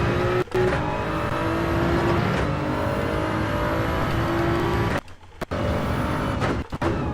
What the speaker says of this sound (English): Dang it, I'm revving it out too much.